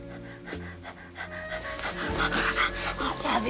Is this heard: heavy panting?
yes